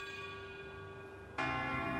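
A bell tolls in the video game Lords of the Fallen, a sustained ringing tone over a low ambient bed, then a louder, brighter strike blooms in near the end.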